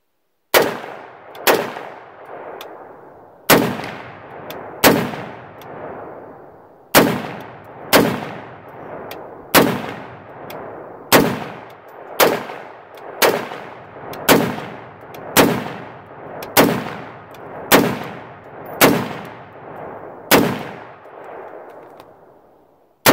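Rifle shots from a PSA Gen 3 AR-10 fired outdoors at tree stumps ring out as about seventeen loud, sharp cracks at uneven intervals, each trailing off in a short echoing decay, with no voices between them.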